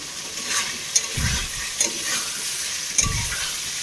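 Cauliflower sautéing in a pan with steady crackling, interrupted by a few sharp scraping stirs of a spatula against metal.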